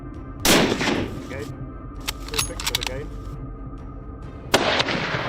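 Gunshots from hunters shooting invasive wild boars on farmland: two sharp, loud cracks several seconds apart with a few fainter clicks and knocks between them, heard outdoors against a steady background hum.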